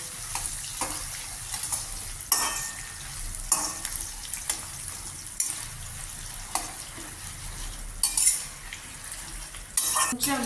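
Red chillies fry in a pan for ginger chutney with a steady low sizzle, while a spoon scrapes and clinks against the metal in irregular strokes close by. Nobody speaks.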